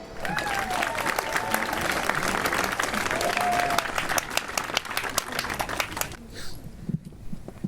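A concert audience applauds a choir after a spring concert song, dense sustained clapping and crowd noise close and loud for several seconds before dropping away abruptly near the end.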